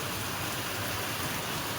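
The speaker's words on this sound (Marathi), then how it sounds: "चांगला मुसळधार पाऊस येतो" Heavy monsoon rain pouring down outdoors, a dense, loud, unbroken hiss of falling water with no other sounds standing out.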